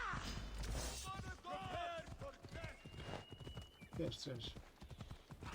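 A horse's hooves clip-clop in quick rhythm as it is ridden through a village in Assassin's Creed Odyssey, with a whinny and game sounds under someone talking throughout.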